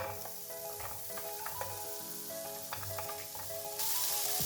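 Cut pumpkin for Onam mathanga thoran cooking in a pan, a soft, quiet sizzle with intermittent light stirring and clinks, a brief louder hiss near the end.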